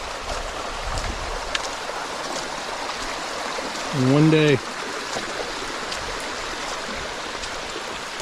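A small stream formed by meadow runoff flows down a gully on a rainy day in Jamaica, a steady moderate rush and trickle throughout, with a brief spoken phrase partway through.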